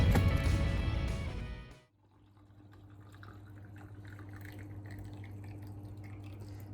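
At a breakfast table, liquid pours loudly for about two seconds and then stops, leaving faint drips and a low background hum.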